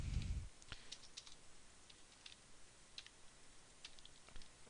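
Faint, scattered keystrokes on a computer keyboard during a coding session: soft, irregular clicks spread across a quiet room, with a dull thump right at the start.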